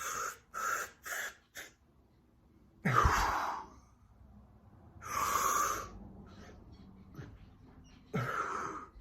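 Wim Hof breathing exercise: a quick run of short rhythmic breaths, then several long, deep, audible inhales and exhales, close and fairly loud, with no talking.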